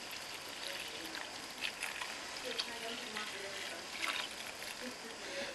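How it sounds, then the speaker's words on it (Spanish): Water is poured into a slow cooker of lentils with vegetable broth, a continuous soft splashing hiss at moderate distance with a few brighter gurgles, and no voice over it. "Y ahora vamos a echar agua."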